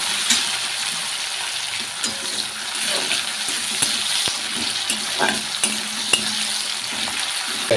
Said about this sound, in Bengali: এবার আমি টমেটো কুচিটা দিয়ে দেবো। মানে একটু ভেজে নেবো